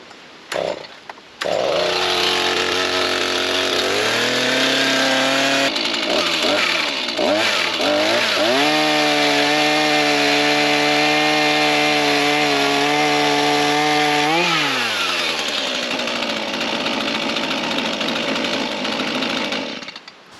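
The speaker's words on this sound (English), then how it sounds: "The steel MS-162 just fell through that." A Stihl MS-162 chainsaw cuts timbers to length on sawhorses for a bridge build. The loud, close engine snarls and revs repeatedly while biting through the wood, then drops back toward idle as the cut finishes.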